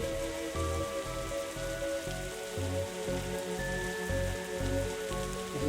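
Steady rainfall drums on a rooftop in the point-and-click game The Darkside Detective, layered under a looping game soundtrack with low pulsing tones, with no talking.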